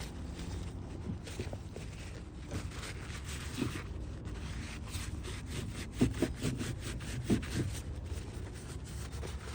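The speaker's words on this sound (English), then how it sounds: "One more wipe down real quick here." A rag rubs and wipes along a Subaru R180-R160 hybrid rear axle, giving a continuous close scraping rub with a few firmer strokes and no voices.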